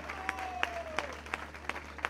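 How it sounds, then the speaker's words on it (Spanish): At a Valentine's Day concert, a crowd applauds in a brief burst with a few distinct claps standing out over a constant low hum, fairly faint and without speech. "Eso, fuerte el aplauso."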